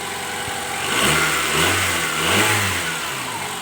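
A used car offered for sale idles steadily and smoothly, its mid-pitched engine hum continuous and close, with two gentle swells in revving but no stumbling or misfire.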